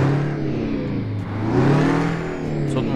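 Scania truck engine revving in Euro Truck Simulator 2, a deep droning motor that swells and dips in pitch as the revs rise and fall, loud and continuous with no voices over it.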